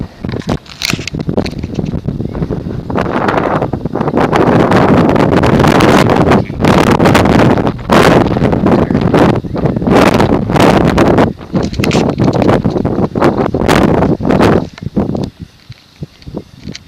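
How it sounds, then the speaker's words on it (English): Strong wind buffets the microphone in loud, roaring gusts on a mountain summit in El Yunque National Forest, Puerto Rico, rising and falling with brief lulls between blasts. "And it's really windy."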